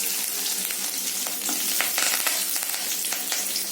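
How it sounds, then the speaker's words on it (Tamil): Sliced large onions sizzle steadily in hot oil with mustard seeds, a dense, even frying hiss with occasional stirring scrapes, close and continuous. "வெங்காயம் ஓரளவு வதங்கிடுச்சு"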